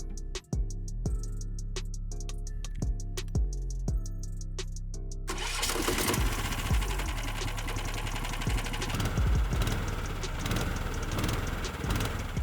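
A DIY tracked-chair mini ATV engine cranks in several rhythmic pulls, then catches and runs at a steady, rattling idle close by.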